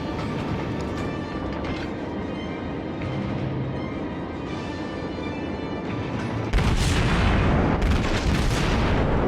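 Naval gunfire from a New Orleans cruiser in World of Warships: a low ongoing battle rumble, then a loud broad blast of a salvo partway through, followed by heavy booming that lingers.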